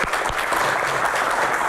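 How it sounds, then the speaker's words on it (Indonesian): Applause from a panel forum audience, loud and close, a dense patter of many clapping hands filling the whole moment without speech. "Tepuk tangan."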